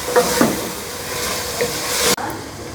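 Fenugreek leaves fry in ghee with a steady close sizzle and hiss. A few light stirring scrapes break through before the sound cuts off abruptly near the end.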